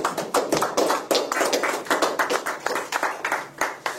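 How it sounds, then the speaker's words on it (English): An audience at a speaking event gives a round of applause: a small group's sharp, separate hand claps in a quick, uneven patter, fairly close, steady for a few seconds, with no talk over it. "Please, give it a round of applause."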